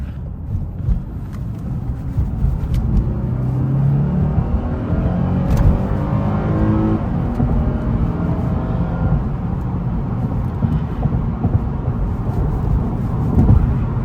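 A Lexus IS300 AWD with a 3.5 liter V6 accelerating hard in sport mode, a steady loud engine roar with rising tones heard from inside the cabin, continuous for the whole stretch with no talking.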